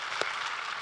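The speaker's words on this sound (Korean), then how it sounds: "우리 하나님께 감사와 영광의 박수를 드리겠습니다" A church congregation gives a brief burst of applause, a soft, diffuse wash of clapping lasting under a second.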